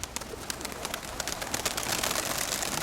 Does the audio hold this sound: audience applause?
no